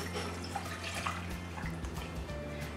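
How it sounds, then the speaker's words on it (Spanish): Water pours steadily into a cooking pot in a kitchen, a soft continuous splashing rush that holds low and even throughout, with no talking over it. "Una olla a la cual le voy a poner agua."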